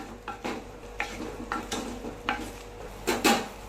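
A spoon stirs shallots and tomato sautéing in oil in a pan for a Tamil small-onion kuzhambu, regular scraping strokes over a soft continuous sizzle, close and unaccompanied by talk.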